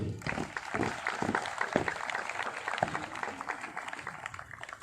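Audience applause at a CRPF passing out parade at the ISA in Mount Abu, a dense, steady crowd clapping throughout with some distant voices mixed in.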